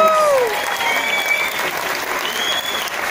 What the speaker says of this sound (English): Make some noise for our Captain, Captain Bruno